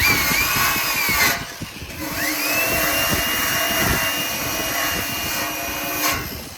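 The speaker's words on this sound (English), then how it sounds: "Just get yourself a cheap wire wheel, Harbor Freight again." A cheap wire wheel on a power tool grinds rust off a car body, a loud continuous whirring drone with brief pitch dips as the motor loads and spins back up.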